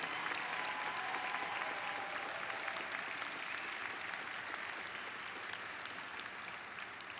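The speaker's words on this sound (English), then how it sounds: "will you applaud these graduates and tell them of your appreciation?" A large audience at a university graduate commencement ceremony applauds the graduates, a dense, sustained wash of clapping that stays loud and even throughout, with faint crowd murmur beneath.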